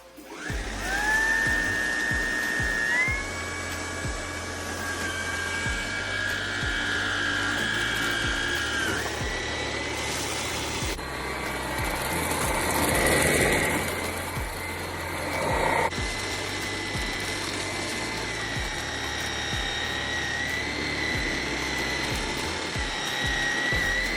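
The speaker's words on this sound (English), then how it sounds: "I got the new Hoover all-terrain vacuum, and let's try it out." A Hoover ONEPWR WindTunnel Emerge cordless stick vacuum runs steadily with a whining motor hum, its pitch shifting as it works over a floor mess, loud and close with no talking.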